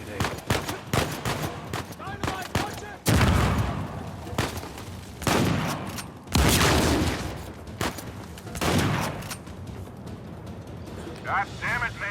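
Bursts of gunfire from a firefight in the video game Uncharted 4 crack out in loud volleys, with rapid automatic shots and heavy booms recurring among voices talking throughout.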